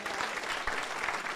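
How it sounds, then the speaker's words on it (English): Brief, full applause from a community gathering audience at a State of Kahite address, a thick wash of many hands clapping steadily at close range. "I like give a round of applause to Lisa Lawson"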